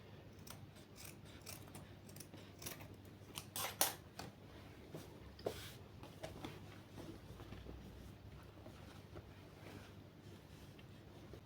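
Scissors snip away excess fabric from a freshly sewn dress seam: faint, close, irregular clicks and crisp cuts against a quiet room hum, with a few sharper snips clustered in the middle.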